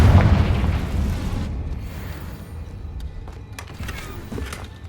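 A Confringo fire spell explodes in Hogwarts Legacy, opening with a loud, close boom that tails off into a crackling, rumbling decay with a few faint pops after it.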